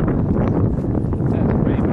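Cold wind at Lafayette Reservoir near San Francisco buffets the microphone in a steady, loud, low rumble that rolls on without a break from start to finish.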